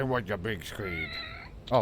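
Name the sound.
cat meowing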